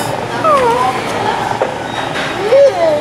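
A cat meows a couple of times, drawn-out and close, with a soft low purring rumble in between.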